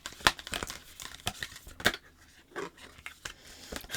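Oracle cards being shuffled by hand, a series of crisp papery riffles and slaps coming in irregular bursts, close and clear.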